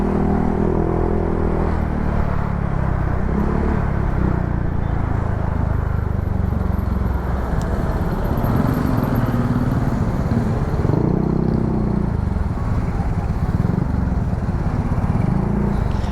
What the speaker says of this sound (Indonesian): Nah ini macet ada apa nih?